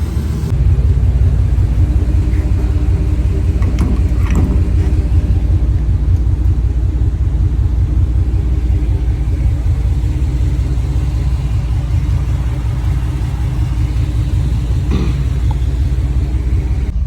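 Car driving along with a loud, steady low engine rumble and road drone filling the cabin, broken by a couple of brief knocks, without any talking.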